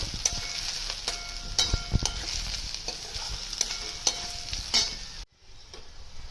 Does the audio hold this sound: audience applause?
no